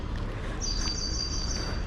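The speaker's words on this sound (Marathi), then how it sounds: "किती शांतता पक्ष्यांचा आवाज येतो आहे" A thin, high bird whistle rises over a steady low background rumble in Khopoli, faint and somewhat distant, with no voices.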